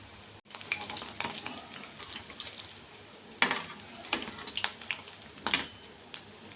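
Wheat biscuits cooking in a pan over a medium flame, a faint, steady frying hiss punctuated by irregular spatters and light scraping taps against the pan, quiet and close with no voices.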